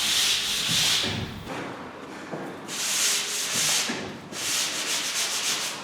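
Final coats of drywall compound are sanded by hand in long, steady abrasive passes, loud and close, coming in a few bursts separated by short pauses.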